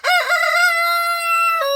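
A rooster at an off-grid cabin crows once, close and loud, a single rising call that holds a long strained note before breaking off, with nothing else around it.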